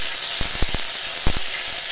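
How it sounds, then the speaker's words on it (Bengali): Ginger-cumin paste frying in hot oil in a wok over a tempering of bay leaf, dried red chilli and five-spice seeds; a steady close sizzle with a few sharp spatula knocks. "এখন দিয়ে দেবো আদা জিরে বাটা"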